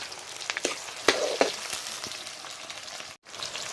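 Meat curry fries in a pan over a wood fire with a steady close hiss and sizzle, broken by a few sharp stirring clicks and one brief dropout near the end.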